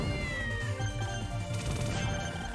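Cartoonish cat meows sound as the cat shield deploys in the Castle Shikigami 2 shooter, layered over busy game music and rapid shot effects, loud and continuous.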